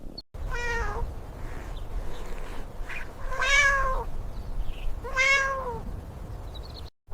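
A cat meows three times in a children's story about a little red hen, each meow clear and drawn out, separated by short pauses over a soft background hiss.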